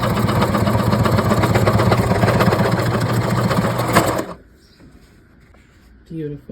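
A Janome heavy-duty sewing machine stitches through thick, doubled leather with a loud, steady mechanical whir for about four seconds, then stops abruptly, leaving faint room noise and a brief soft sound at the end.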